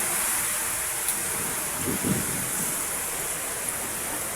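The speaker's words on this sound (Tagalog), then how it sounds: "biglang narinig ko, parating na yung ulan." Rain arrives on an outdoor yard just after grass cutting, a steady broadband hiss of falling drops, with a brief low rumble near the middle.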